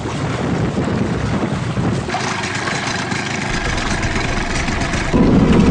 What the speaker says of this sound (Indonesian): Tim berusaha menjangkau pulau dengan speedboat.